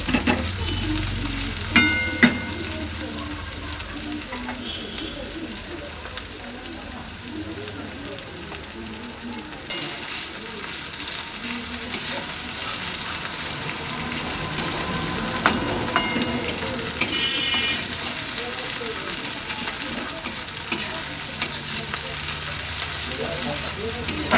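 Onions frying in oil for a Bengali mutton liver dish, stirred over and over until golden brown: a loud, continuous crackling sizzle with frequent spatula scrapes against the pan throughout.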